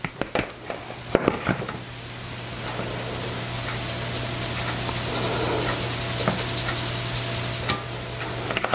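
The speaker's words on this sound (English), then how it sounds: "I'm going to sift that into my egg and sugar mixture" Flour and baking powder sifted into an egg and sugar mixture for lemon puff cakes: a steady, soft rasping whisper of the sifter that builds and holds for several seconds, after a few sharp taps at the start.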